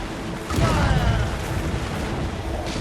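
Heavy cannon fire in a video-game naval battle, a single deep boom that rolls out into a rumbling tail, fairly loud and close.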